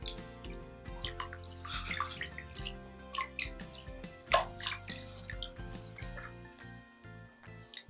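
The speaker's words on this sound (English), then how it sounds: "Rinse in some tap water" Tap water running and splashing while filter media is rinsed for a fish tank filter, a faint patter of drips and trickles heard against quiet background music.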